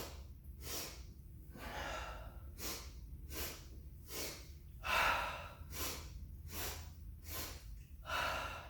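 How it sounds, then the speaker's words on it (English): Rhythmic breathing exercise with repeated quick, sharp inhales through the nose followed by exhales, close and faint, cycling steadily in a regular pattern. "So it's an inhale, inhale, inhale, exhale."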